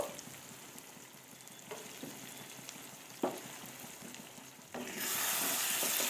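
Mutton pieces fry in a pan, being browned down as kosha, with a soft continuous sizzle, a few light stirring knocks, and a brighter, louder hiss swelling over the last second.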